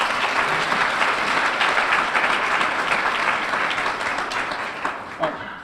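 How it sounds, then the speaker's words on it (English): A dinner audience at a university men's summit applauds a speaker with a sustained, dense round of clapping that fades slightly toward the end, with a voice faintly mixed in. "Let's give Mr. Cummings another round of applause"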